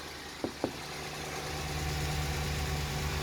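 Vehicle engine idling while raised in the air for wheel removal, a low steady hum that grows slightly louder, with two brief sharp clicks near the start.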